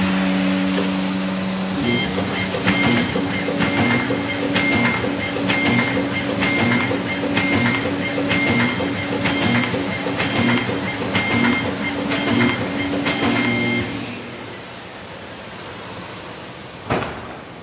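A Bacciottini OXO Multiskill creaser folder runs close and loud with steady mechanical clatter and tonal whine. Rapid rhythmic ticks repeat for about twelve seconds, then the machine winds down and a single knock follows.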